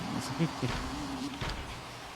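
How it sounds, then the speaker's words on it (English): ATV engines in a PS2 video game give off a thin, continuous insect-like buzz that wavers slightly, fairly faint under a man's speech. "The ATVs that sound like bees."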